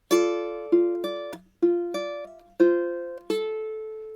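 Fingerstyle ukulele picks out a song's melody in a slow run of about seven plucked notes, each ringing and decaying before the next, close and alone with no talking.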